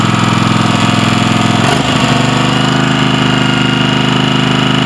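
A Kohler CV22 engine running at about half throttle, a loud, steady, close drone with a constant low hum that shifts slightly in pitch partway through, with no voices.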